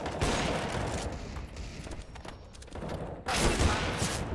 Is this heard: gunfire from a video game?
yes